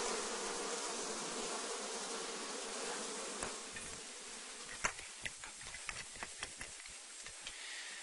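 Honeybees from newly installed colonies buzz continuously, a dense steady hum with scattered sharper clicks and ticks near the hive, no voices present.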